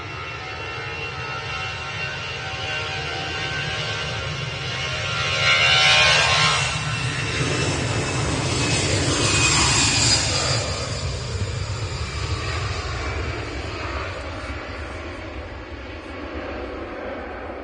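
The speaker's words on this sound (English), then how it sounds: "This first though is the Lufthansa heading back to Frankfurt." A Lufthansa Airbus A319 departs for Frankfurt, its engines a steady, broad roar that swells to a peak midway and then slowly fades while staying prominent throughout, with no talk over it.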